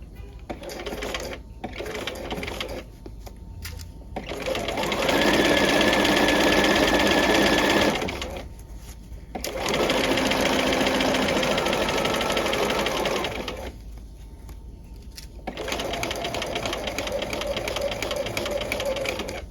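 A sewing machine stitches a row along a raw fabric edge while forming a welt pocket, running in three long, loud bursts with short pauses between them and no speech over it.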